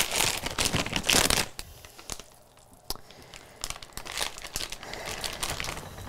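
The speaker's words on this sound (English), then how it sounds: "Okay, so that my filling is done, I'm going to fill my pastry bag." A plastic pastry bag is filled with ravioli filling, giving close crinkling and rustling of plastic in bursts, loudest at the start, with softer handling noises after.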